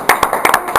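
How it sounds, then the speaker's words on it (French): A few sharp, close hand claps ring out in an uneven rhythm at a club's annual general assembly, brief and fairly loud. "on peut vous applaudir"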